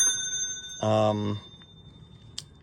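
A hotel check-in desk bell gives one bright ring that hangs for about half a second and then fades, followed by a soft, faint tap.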